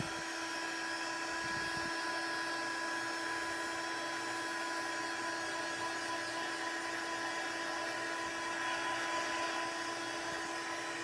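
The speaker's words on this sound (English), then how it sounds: "I'm going to shoot it with my heat tool only because I see like a couple of them is a little bit thicker and I don't want it to smear." An embossing heat tool blows hot air over ink on a handmade floral card background, giving a steady, loud whirring fan hum with a high whine that runs unbroken throughout without any talking.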